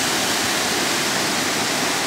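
Rushing water pours steadily from a waterfall, a dense, even roar with no pauses.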